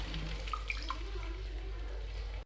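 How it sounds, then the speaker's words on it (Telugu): Water splashes and trickles softly into a cooking pan for a couple of seconds, a faint, steady pour that stops abruptly at the end. "బాండీలో నీళ్ళు పోసేసి పెట్టానండి."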